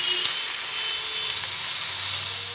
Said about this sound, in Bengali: সবজিগুলো ভাজতে ভাজতে এর মধ্যে আমি 2টো কাঁচা লঙ্কা দিয়ে দেবো।